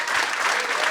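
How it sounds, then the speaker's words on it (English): An audience at a charity gala breaks into steady applause honoring a young woman, the clapping dense and continuous throughout, fairly loud and close with no voices rising above it. "round of applause for Emily"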